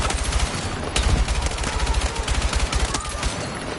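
Rapid bursts of automatic gunfire in the shooter game Battlefield 6, loud and dense, with sharp repeated reports running almost continuously throughout.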